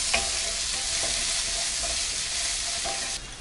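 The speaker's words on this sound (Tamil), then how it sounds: "தக்காளி கட் பண்ணி ஆட் பண்ணிக்கலாம். இது 1 நிமிஷம் வரைக்கும் நல்லா வதக்கிக்கலாம்." Chopped tomato sautés with shallots and dals in a pan for a mint thogayal, a constant loud sizzle broken by soft rhythmic scrapes of stirring.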